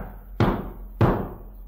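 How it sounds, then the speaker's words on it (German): Two firm knocks on a wooden door in a 1967 German audio drama of the wolf and the seven young goats, spaced about half a second apart, sharp and close with short ringing decay and no speech. "da klopfte jemand an die Tür"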